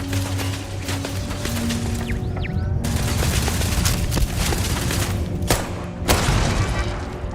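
Gunfire in the sci-fi game Starfield: a dense barrage of shots and booming thuds over a rumbling background, with several sharper, louder reports standing out near the end.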